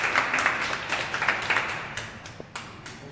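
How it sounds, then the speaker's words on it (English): An audience at a business education event in Denver claps to welcome a speaker, moderately loud applause with distinct individual claps that thins out toward the end. "With rousing applause, please help me welcome Russ Kyncl of Strategic Exit LLC."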